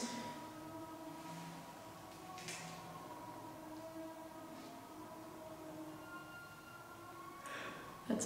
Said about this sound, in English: That's a train, right?